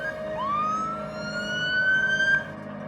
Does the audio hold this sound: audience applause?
no